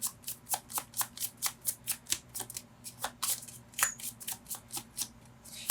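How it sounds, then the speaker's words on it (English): Tarot cards riffle and shuffle in quick repeated bursts, close and crisp, a steady rhythm of about two or three flicks per second. "So if you do not like me shuffling and watching this"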